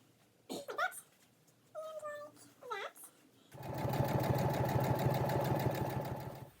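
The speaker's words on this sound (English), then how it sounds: "now I'm going to sew up the sides" A sewing machine stitches up the sides of a medieval-style dress, starting after about three seconds of meows and a steady, close, rapid whirring hum that runs to the end, with no talking.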